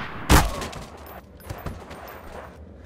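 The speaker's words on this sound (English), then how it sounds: "I'm trying to shoot you because you shot him." Gunfire in the game Trouble in Terrorist Town: one loud, sharp shot, then a pair of quicker, fainter shots a second later, with quiet gaps between them.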